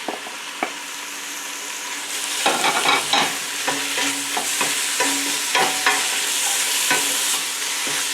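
Beef browning in a pot with garlic and paprika for Hungarian gulyas soup, a steady close sizzle broken by scraping stirs of a utensil, without speech.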